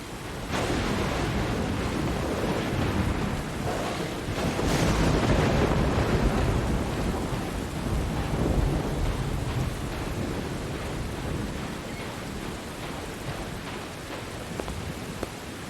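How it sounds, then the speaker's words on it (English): Heavy rain and rolling thunder from a Halloween video game, a dense continuous roar of downpour with deep rumbles swelling and fading throughout, loud and without talking. "this lightning is pretty loud for my headphones"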